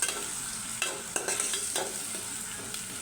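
Beef kebab mince with green chili, chopped garlic and ginger-garlic paste gets stirred in a hot pan, a soft sizzle and frying hiss running under a few scraping stirs of a spatula.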